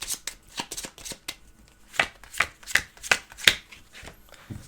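Playing cards for the board game Cat's Gambit being shuffled, a close series of crisp riffling and tapping bursts in an uneven rhythm, with no talking.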